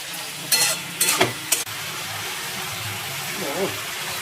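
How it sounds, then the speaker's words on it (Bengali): Mixture with sugar being sautéed in a frying pan, a steady sizzle with a few sharp stirring scrapes near the start, continuing low and even under faint background sounds. "এবার এটা একটু ভালো করে কষিয়ে নেব"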